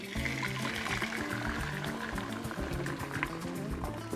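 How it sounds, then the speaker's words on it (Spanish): Hot vegetable broth strained and poured off cooked vegetables in a kitchen, a steady, continuous splashing pour of liquid that runs for several seconds with no one talking. "vamos a colar, a separar el caldo propiamente dicho de la verdura que utilizamos"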